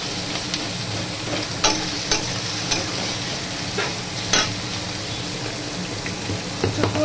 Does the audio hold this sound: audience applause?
no